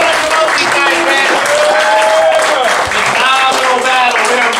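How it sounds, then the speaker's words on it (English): Loud, continuous audience applause and crowd noise at a rap battle show in New York, sustained for several seconds, with voices and shouts mixed into the clapping throughout. "You guys keep those hands clapping for Amanda Fulton and Kevin Winter."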